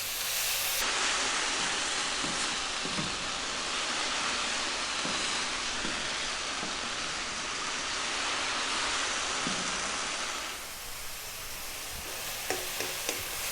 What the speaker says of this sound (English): we're going to go for another 3 minutes, stirring all the time on this high heat